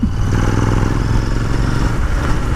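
A Royal Enfield Interceptor 650 twin fitted with an AEW exhaust and dB killers runs steadily, giving off a deep, continuous burbling engine note with some mechanical clatter, loud and close throughout.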